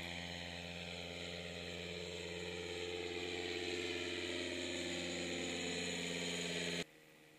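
A small aircraft engine running steadily at a distance, a droning, faintly rattling hum that rises slightly in pitch and then stops suddenly near the end, leaving quiet background.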